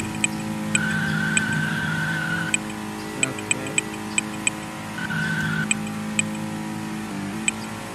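A car drives in a video game, its engine droning steadily throughout. Sharp periodic ticks and brief tonal beeps sit on top of the drone, which dips slightly midway and then resumes.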